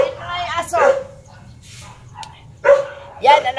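A dog barks in short bursts close by on a hot day in the Philippines, while a person talks over and between the barks.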